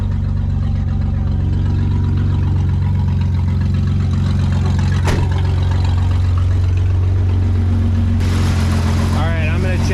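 An Isuzu Trooper engine idles with a huge exhaust leak, giving a loud, steady low rumble like straight pipes that runs throughout. A voice talks over it near the end.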